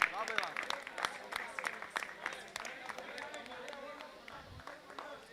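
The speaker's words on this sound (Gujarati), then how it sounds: "તો તાળીઓથી ગડગડાટ કરો મારી નાથ." Spectators clap in a scattered, uneven burst at a Vaghari Samaj community cricket league semi-final match, moderately distant, with a voice speaking over the applause.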